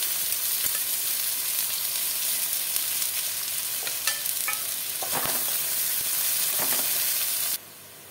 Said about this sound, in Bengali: দিয়ে দেবো দুটো পেঁয়াজ কুচি।